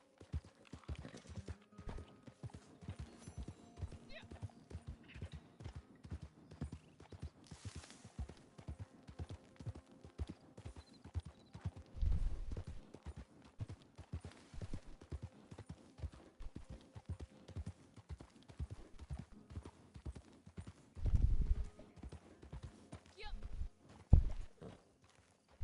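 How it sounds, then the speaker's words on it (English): Horse hooves clip-clop steadily in the Red Dead video game, a continuous rhythmic walking pace kept fairly faint under a voice talking throughout. "I named her Roach because she looks like the horse from The Witcher."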